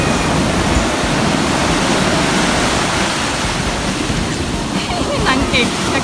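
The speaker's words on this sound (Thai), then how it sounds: "ฟางหอมสนุกใหญ่เลยนะจ๊ะดูไม่กลัวน้ำทะเลเลย" Sea waves wash onto a beach in Phuket with a continuous broad rushing roar, close and loud, with some wind noise on the microphone and faint voices in the background.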